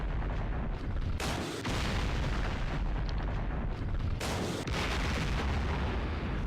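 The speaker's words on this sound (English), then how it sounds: "Here comes my rockets." Rocket artillery firing in the John Tiller Campaign Series war game, a dense roaring barrage of blasts and rumbling booms, loud and continuous with two brief dips between surges.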